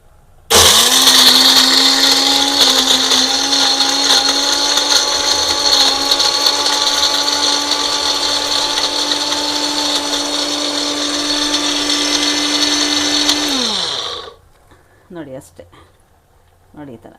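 A kitchen mixer grinder whirs loudly and steadily for about thirteen seconds while coarsely grinding ingredients into powder for an ivy gourd fry, then winds down and stops, followed by brief quiet voice sounds.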